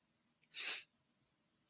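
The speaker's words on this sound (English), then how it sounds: "I'm in here sneezing on his mic" A single sharp sneeze bursts out close to a microphone indoors, heard alone with no talking around it.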